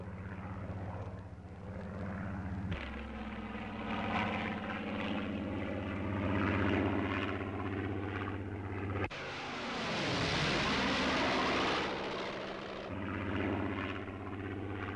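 A WWII Spitfire 14 fighter with a drop tank fitted runs its propeller engine, a continuous droning roar with shifting pitch and a sharp change partway through as it passes, steady and fairly distant with no talking.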